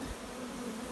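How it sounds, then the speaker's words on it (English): Honey bees buzz steadily at a beehive, a dense close drone filling the short moment without any voices. "We certainly have bees this year."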